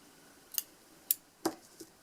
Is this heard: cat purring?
no